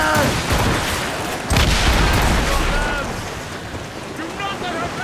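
Ship cannons firing explosive shots in a naval battle in Assassin's Creed Rogue, a heavy volley of booms and rumbling blasts over sea noise, with shouted voices mixed in.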